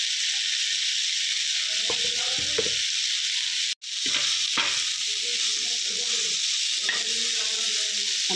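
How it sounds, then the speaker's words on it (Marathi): Bitter gourd frying in a pan over full heat with a little salt, a steady bright sizzle throughout, broken by scraping stirring strokes and a brief sharp drop partway through. "आणि हे कारल्याचे फ्राय करायचे."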